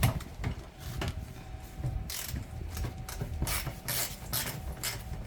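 A ratchet loosens a 17mm oil drain plug on a 6.0 Power Stroke diesel engine, making repeated close clicking pawl bursts in an uneven rhythm, with no talking.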